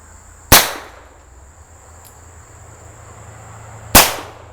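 A Heritage revolver, a budget handgun, fires at outdoor target practice from 10 to 23 yards: two loud, sharp shots about three seconds apart, each with a short decaying tail, over a quiet steady background hum.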